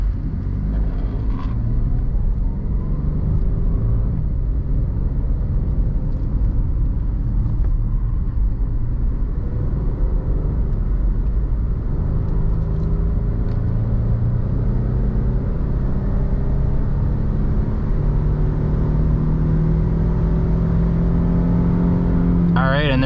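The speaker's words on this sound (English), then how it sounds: "We're gonna take it on the highway here and try out the acceleration" A 2012 Jeep Liberty gives a steady engine drone and low road rumble from inside the cabin while it accelerates onto a highway, with a rising tone under occasional talk.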